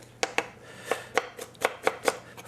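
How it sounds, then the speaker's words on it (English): Shallots being chopped with a knife on a board, about eight crisp, evenly spaced taps close by, with quiet room tone between strikes. "And shallots. That I'm going to cut"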